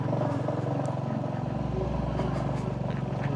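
A motorcycle climbs a rough dirt slope near a hillside temple, its engine labouring in a steady low drone that holds close and loud the whole time, with voices talking over it.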